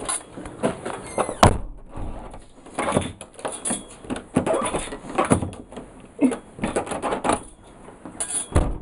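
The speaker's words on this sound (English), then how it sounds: "Ellie, get inside the house so we can go out the front door" A front door of a house opens and closes with a few knocks and clatters, amid footsteps and movement nearby, moderately close.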